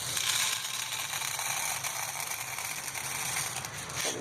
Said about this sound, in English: We're going to load the mag up.